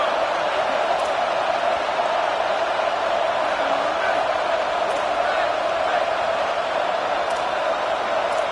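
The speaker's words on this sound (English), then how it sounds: "Man, this crowd really affecting the football game." Steady roar of a home crowd at a football game, a dense unbroken wash of distant cheering and murmur that holds level throughout with no distinct peaks.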